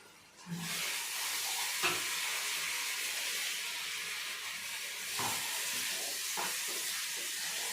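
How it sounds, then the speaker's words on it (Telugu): Ground chili powder stirred into hot oil in a sizzling pan, a loud steady hiss of frying that starts abruptly, broken by a few soft scraping stirs. "ఇప్పుడు నేను కారం ఇందులో వేస్తాను"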